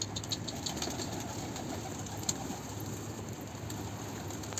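Cooing from a bird being coaxed with bread outdoors, soft and steady beneath a constant wash of broadband background noise, with no voices.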